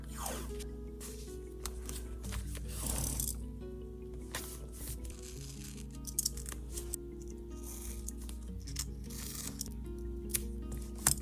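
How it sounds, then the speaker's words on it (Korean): Paper being cut gently with scissors while setting up a bullet journal, giving soft, close snipping and rustling strokes over a steady background of quiet music. "아주 살살 이렇게 잘라줍니다"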